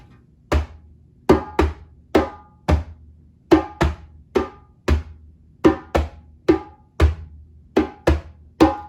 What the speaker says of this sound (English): we're going to alternate between bass and open tones